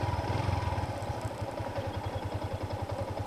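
A manual-clutch motorcycle engine runs in second gear after a downshift, a close, steady pulsing putter at low revs.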